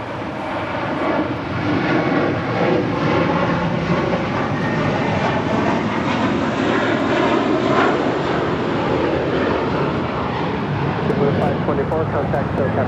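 A large jet airliner roars on a runway at LAX, a loud, broad and sustained engine rumble that holds steady throughout. Air traffic control radio talk runs over the roar.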